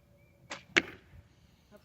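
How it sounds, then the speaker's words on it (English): An arrow released from a bow strikes a target on a ranch, a sharp whoosh followed quickly by a crisp impact thwack, then a faint knock, close and isolated without speech. "That was my last arrow."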